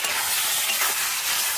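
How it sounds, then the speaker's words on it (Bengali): Eggplant frying in a pan with a little salt: a loud, dense, continuous hiss filling the short stretch, close up, with no voices. "তো বেগুনটা হালকা লবণ দিয়ে সুন্দর করে ভেজে নিচ্ছি।"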